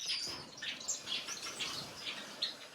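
Small birds chirping and flapping their wings while being caught, a flurry of high twittering calls mixed with brief fluttering bursts, close and fairly loud, with no talking.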